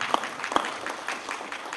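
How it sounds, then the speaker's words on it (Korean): An audience at an entrepreneurship camp event claps in encouragement, a quiet, moderately distant patter of applause with a couple of sharper claps near the start. "격려의 박수 한번 부탁드립니다"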